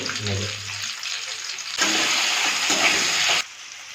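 Water poured over frying tomatoes in a cooking pan while making a coriander-mint paneer curry: a loud burst of rushing, hissing liquid lasts about a second and a half, then drops back to a quieter background of kitchen noise.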